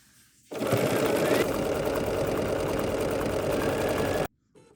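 A sewing machine stitching a gentle curve with stitch number 1304 on a quilted pumpkin wall hanging runs as one steady, close, loud whir for nearly four seconds, then stops abruptly.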